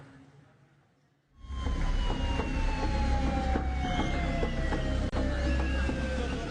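An ambulance siren blares on Jalan Swadaya in Meulaboh, Aceh Barat, with a steady wailing tone that rises and falls. It starts abruptly after a brief quiet and stays loud and close with traffic rumble beneath it.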